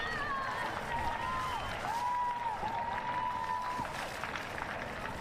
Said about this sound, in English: Whilst you're cheering